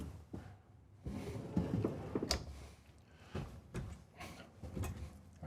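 Drawers in a Winnebago 42QD Class A motorhome slide open and shut, giving a quiet series of soft knocks and clacks at irregular intervals close by, with no talking.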